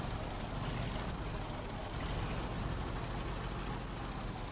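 A truck engine idles with a steady low rumble in SnowRunner gameplay, continuous and even in level with no speech over it.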